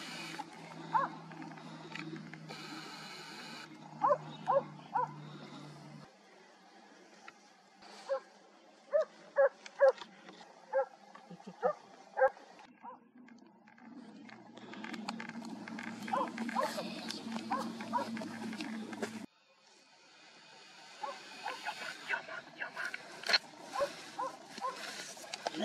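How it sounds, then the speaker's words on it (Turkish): Hunting dogs barking in bursts during a boar hunt, sharp repeated barks and yips near and far, with people talking over and between them. "Köpek çok yakın."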